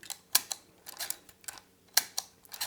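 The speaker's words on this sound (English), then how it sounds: "every time you advance the film, it just fires a" A Rolleiflex medium format camera with a fault that fires its shutter as the film is advanced, giving a quick run of sharp mechanical clicks and ticks, close up and uneven in rhythm.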